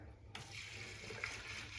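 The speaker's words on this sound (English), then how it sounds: "Let's fill it up with some water." Tap water runs into the tank of a Sani Bot D3X CPAP cleaner in a brief, faint, steady splashing trickle after a short quiet start.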